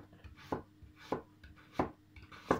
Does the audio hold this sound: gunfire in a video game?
no